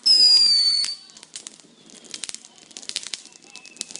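Fourth of July fireworks and firecrackers: a loud shrill whistle opens, then a spray of small crackling pops and snaps spreads out at a moderate distance.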